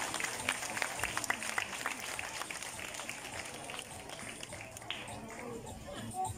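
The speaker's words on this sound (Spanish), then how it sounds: "Por favor, démosle un fuerte aplauso" Crowd at a political party presentation event applauding a welcomed official, continuous scattered clapping with sharp individual claps, mixed with murmuring voices and background crowd noise.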